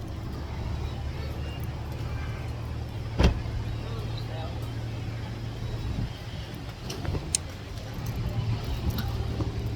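Busy car traffic at a Buc-ee's gas station, a steady low rumble of idling and passing vehicles with a brief louder thump near the start and faint clatter, no talk over it.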